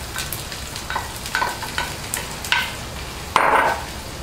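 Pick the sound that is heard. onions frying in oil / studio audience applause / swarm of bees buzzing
onions frying in oil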